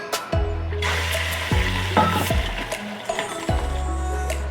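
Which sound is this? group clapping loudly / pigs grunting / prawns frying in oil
prawns frying in oil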